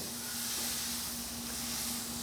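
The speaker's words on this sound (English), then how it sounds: "I hope you can hear that sizzle." Tri-tip steak sizzling on a grill heated to nearly 700 degrees, a steady broadband hiss close up with a faint hum beneath, continuous and fairly quiet with no talking.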